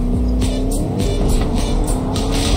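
A car in the Fortnite video game drives with a steady, loud engine drone and rumble, continuous throughout with faint squealing tire textures on top.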